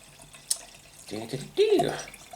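Nightingale Falstaff Bramley cider pouring from a can, a short liquid glug and splash into a glass after a faint click, close and fairly quiet.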